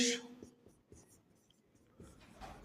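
Marker or chalk strokes on a classroom board as a Bengali word is written out during a grammar lesson, a series of close scratchy, squeaky strokes in short irregular bursts, with brief traces of a nearby voice.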